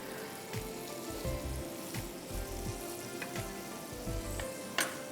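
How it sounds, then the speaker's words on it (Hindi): Butter sizzling and frying in a hot pan for a butter chicken dish, a steady close crackle with occasional stirring scrapes and clinks, no talk. "अब हम इसमें मक्खन डालेंगे जो मैंने बचाया था"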